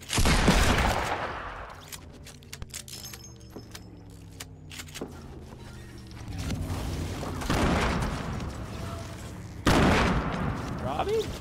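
Revolver gunshots fire in a video game: a few loud, sharp blasts, at the start and again near the end, over a busy background of in-game noise and some voices.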